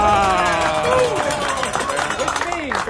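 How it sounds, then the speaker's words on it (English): A crowd at a BBQ competition awards ceremony applauds the winner with dense, steady clapping mixed with loud cheers and whoops, and voices ring out over the noise. "Round of applause."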